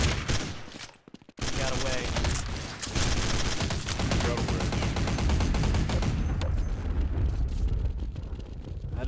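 Gunfire fills the Counter-Strike zombies match, heavy automatic bursts rattling almost without a break after a short pause near the start, loud and dense.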